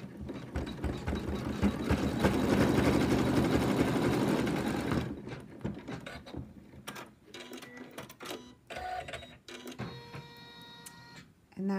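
An embroidery machine stitches an in-the-hoop lamb design with a loud, rapid, steady mechanical hum for about five seconds. After it stops, quieter clicks and handling noises follow.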